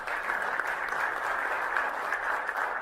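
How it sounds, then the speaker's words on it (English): An audience applauds steadily at a live business speaking event as a speaker is welcomed onto the stage, a dense wash of clapping that stays even and moderately loud throughout, with no voices over it. "with a huge round of applause, please welcome Mr."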